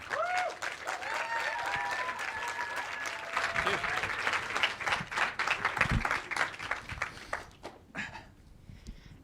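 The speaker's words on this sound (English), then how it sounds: "Please give them a round of applause." An audience claps and applauds to welcome speakers onto the stage at a political discussion event. Dense, steady clapping fills most of the stretch at moderate loudness, then thins out and fades near the end, with faint voices mixed in.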